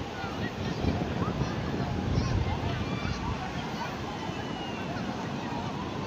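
Sea waves wash in at Baron beach in Gunungkidul, a broad, rough roar with wind buffeting the microphone, steady and fairly loud, as a voice talks over it.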